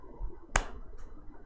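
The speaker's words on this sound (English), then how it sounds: "So multiple of 3, you clap." A single sharp hand clap in a counting game where multiples of three are clapped instead of spoken, one crisp close transient standing alone against a quiet room with faint background noise.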